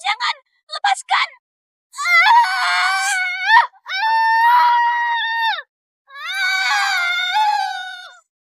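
A servant screams outside in a series of long, high, wailing cries after a few short sharp yelps, loud and unaccompanied by other sound.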